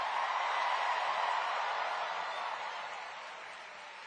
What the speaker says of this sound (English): Can we first hear a round of applause for our incredible MC, Sarah Sherman?